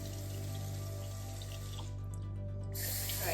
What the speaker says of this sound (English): I'm going to rinse it out really well